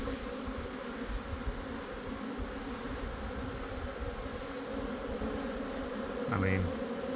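Honeybees swarm around hives in a California almond orchard, a dense, continuous buzzing drone that stays loud and close throughout.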